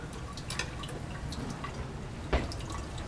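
Liquid drips into a reaction flask while a Grignard reaction is being quenched in a lab. Faint, sparse drops fall against a quiet hiss, with one clearer drop standing out near the end.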